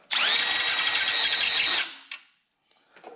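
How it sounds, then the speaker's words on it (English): A power drill spins at high speed for almost two seconds, rounding off the first threads on a bolt during a 2005 Chevy Corvette Pfadt Racing sway bar rebuild. A short metallic tick and faint handling sounds follow. "turn on your drill, and you just fix the end of it"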